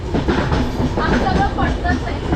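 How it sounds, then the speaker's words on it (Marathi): A train arriving at Agra railway station rumbles and clatters steadily close by, its wheels rattling over the tracks with a continuous heavy roar. "तर आपली ट्रेन आली"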